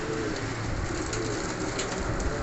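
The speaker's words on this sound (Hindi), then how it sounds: "चौंसरे कबूतर हैं, कुछ नए परों के हैं, कुछ पुराने परों के" A flock of sixteen Sialkoti pigeons of mixed ages coo steadily and close by, a dense continuous murmur of overlapping calls with no talk.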